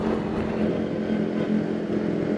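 A Honda New CB150R motorcycle fitted with a Spartan GP aftermarket exhaust idles and revs lightly, giving a steady, close, loud rumble with a throaty drone that holds through the whole moment.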